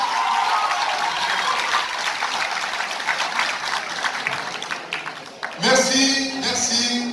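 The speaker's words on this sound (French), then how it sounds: "applaudissez, sixième sens." Sustained applause from an audience at an Injaz Al-Maghrib event in Tangier, Morocco, a dense steady patter lasting several seconds before it thins and gives way to voices and music.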